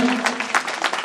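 A brief burst of audience applause welcomes award recipients at the prize distribution of a 2022 Jasgeet devotional song competition. The clapping is close and moderately loud, with a faint steady tone at the start.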